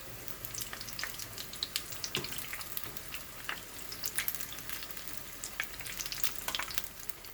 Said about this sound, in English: The oil is hot. I am going to add them one by one.